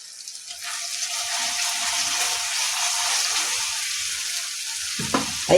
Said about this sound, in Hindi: मध्यम आँच पर भुजैत 5 मिनट भेलै, मसाला भुजा गेलै।